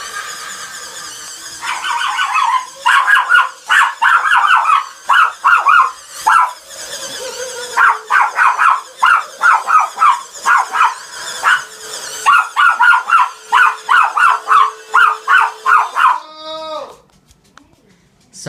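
A dog close to the microphone barks repeatedly in loud, rapid bursts, mixed with snarling growls, some pauses between volleys, and a rising yelp near the end.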